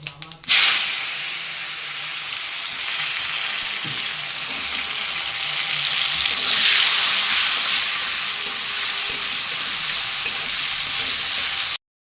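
Cumin, bay leaf and tomato sizzle steadily in hot oil as a Bengali tempering fries, a loud, continuous hiss with faint stirring scrapes throughout, cutting off abruptly at the end.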